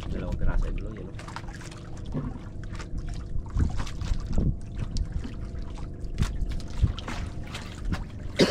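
A boat moving on the water near a fishing spot, low engine rumble mixed with splashing and pouring water, with people talking intermittently over the noise.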